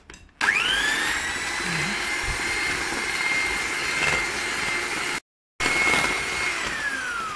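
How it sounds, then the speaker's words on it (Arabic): An electric hand mixer beating a cornstarch and oil mixture for eid cookies, a steady high whine running continuously and briefly cutting out before starting again, close and loud with no talking. "نشغل المضرب"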